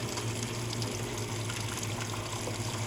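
A Speed Queen top-load washing machine fills with water, a steady broadband rush and hum of water flowing into the tub that holds at an even level throughout, close by with no talk.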